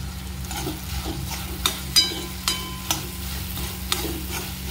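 Cauliflower cooks in a pan with a gentle sizzle, broken by a few scraping and clinking stirring strokes at irregular intervals close by.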